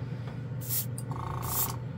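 A Gaahleri number 68 advanced airbrush spraying red paint gives two short, close hissing bursts of air, with a steady compressor hum underneath.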